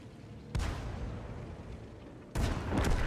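Two heavy tank cannon shots boom in World of Tanks, with a Challenger trading fire with a T-37. Each blast is loud and sharp, and a rumbling tail follows it.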